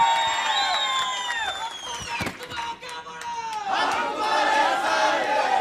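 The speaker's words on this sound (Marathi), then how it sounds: "आप्पासाहेबजी जगदाळे यांच्यासाठी जोरात टाळ्या वाजवून त्यांना" A crowd at a political rally in Indapur, Maharashtra, cheers and shouts together, loud and sustained, with raised voices swelling near the end.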